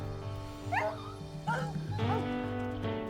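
Dogs in the video game Cooper's Quest yip and bark in a few short bursts over a steady droning game soundtrack.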